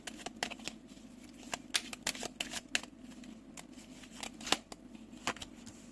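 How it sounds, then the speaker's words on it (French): Tarot cards are laid out by hand, with quick papery flicks, slides and snaps in irregular clusters, soft and close, no voice. "je vais mettre les 8 cartes"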